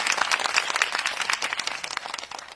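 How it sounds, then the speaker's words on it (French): Applause from a small group, brief uneven clapping of a few hands, close and fairly loud, thinning toward the end. "félicitations, j'applaudis."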